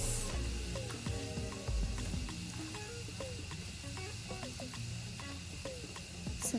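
Steady, dense sizzling of sweet potato balls deep-frying in hot oil, crackling and popping continuously at close range with faint clinks, no talk over it.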